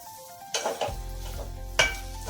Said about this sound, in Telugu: కొద్దిగా ధనియాల పొడి వేసుకొని బాగా కలుపుకొని దించేసేయండి.